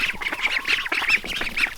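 Young poultry calling up close in a Wyoming mountain barnyard in early spring, a run of bright, nasal honking squawks repeated in quick bursts, loud and alone with no talking.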